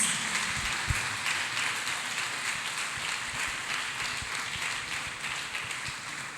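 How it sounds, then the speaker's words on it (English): A church congregation claps hands together in a sustained, dense wash of applause, steady and fairly distant throughout with no voices standing out. "Let us clap hands beautifully for Jesus."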